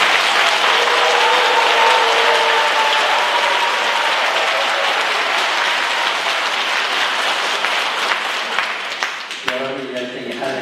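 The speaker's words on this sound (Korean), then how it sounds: "박수 부탁드립니다." Loud applause from a large congregation at an Easter Vigil Mass in a Catholic church in Jeju fills the room for several seconds, thinning out near the end as voices come through.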